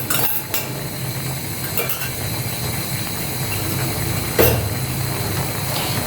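Ground cumin, mustard and radhuni spice paste being stirred into bottle gourd in a cooking pot, with close scraping and clinking of a utensil against metal over a low background hum.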